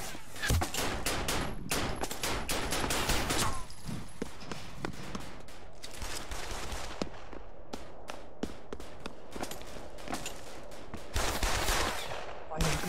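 Rapid bursts of automatic gunfire from the VR shooter Pavlov VR, dense volleys of sharp shots crackling for most of the stretch, with occasional louder single reports and a voice speaking briefly over the shooting.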